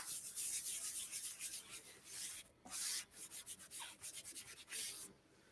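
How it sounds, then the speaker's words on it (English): An embossing magic pad is rubbed back and forth over a sheet of cardstock, giving close, papery scrubbing strokes in quick bursts with short pauses between them. "I'm going to use my embossing magic pad all over this piece of cardstock."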